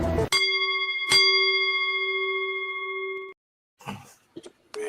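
A bell rings twice in quick succession, each strike leaving a bright, sustained metallic tone that hangs for a few seconds before cutting off, followed by brief scuffling and muffled knocks.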